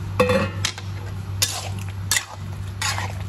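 Bottle gourd (upo) being sautéed in a pan, with scattered utensil clinks and scraping against the cookware over a steady low hum, a few sharper knocks standing out.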